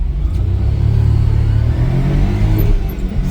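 A Daihatsu Hijet kei truck revs hard while accelerating in low gear, its small engine droning loud and close with a steady rising rumble and no voices.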